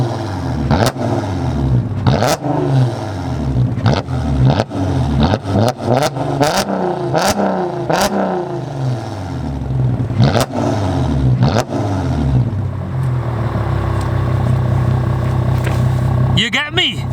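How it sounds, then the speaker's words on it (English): A loud, raspy straight-piped VW Passat R36 engine revs repeatedly in sharp bursts, then settles into a steady rumbling idle, with voices talking over it. "It's an R36 Passat with a straight pipe"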